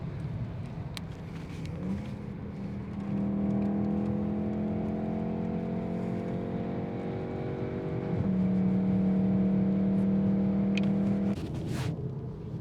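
A VW Golf R Estate laps the Nurburgring, its engine droning loud and steady from inside the car. The pitch holds through long pulls, and the tone shifts at a few gear changes.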